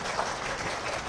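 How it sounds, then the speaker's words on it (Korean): An audience at a seminar on Korea–Japan relations claps to welcome a professor to the stage, a dense, brief burst of applause heard close and alone. "큰 박수로 맞이해 주시기 바랍니다"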